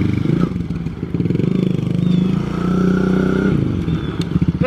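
A pit bike engine runs loud and close, revving and rattling continuously with mechanical clatter throughout.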